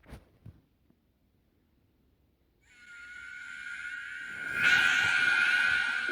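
A loud, piercing shriek from the horror game Ben Drowned rises out of near silence after a few faint knocks, swelling into a sustained harsh scream that holds to the end.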